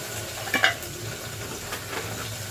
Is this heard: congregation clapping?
no